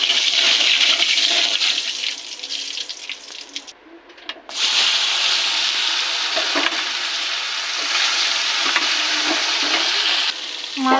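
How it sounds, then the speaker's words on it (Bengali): Small tilapia pieces rubbed with salt and turmeric fry in hot oil in a wok with a loud, continuous sizzle and crackle that briefly dips and returns, with occasional stirring scrapes and no speech. "মাছ দিয়ে দিয়েছি, এগুলো ভাজবো।"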